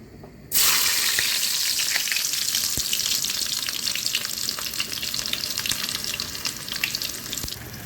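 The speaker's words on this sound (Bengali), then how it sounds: "যে বেগুন ভর্তাটাকে একটু ডিম দিয়ে রান্না করে নেব।" Eggplant mash (begun bharta) with tomato, onion and egg frying in a pan, a loud steady sizzle starting abruptly and holding throughout, with occasional stirring scrapes and crackles.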